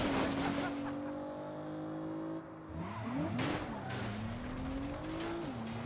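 Saints Row car drifting, with a loud, close engine holding a steady whine, then dipping and swooping through rising and falling revs as the tires skid, with faint voices beneath.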